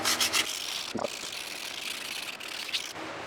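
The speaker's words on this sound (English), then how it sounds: "Using some 400 grit now." Sanding metal by hand with 400 grit sandpaper during repair work on a turbo M50 engine from an E30, a steady close rubbing scrape running throughout with a brief knock near the start.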